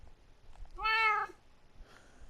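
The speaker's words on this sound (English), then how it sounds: "So it's a Siamese cat, which I got." A Siamese cat in Minecraft gives one short, bright meow that rises and falls, heard clearly over a quiet background.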